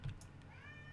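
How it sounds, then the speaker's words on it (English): A house cat meows once, faint and nearby, in a quiet room with low background hum. "I'm sorry about my cat. He went into my room."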